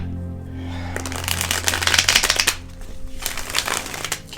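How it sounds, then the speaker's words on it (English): A Crystal Vision Tarot card deck is riffle-shuffled up close, giving two quick bursts of crisp, fluttering card slaps against a low steady hum. "I pre-shuffled my decks, but I like to shuffle them one more time"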